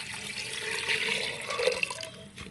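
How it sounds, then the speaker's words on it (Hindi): Water poured into a pot of spices, salt, red chili, lentils and chicken, a steady splashing pour that runs for a couple of seconds, fairly close and alone. "अब हम इसमें डाल देंगे पानी"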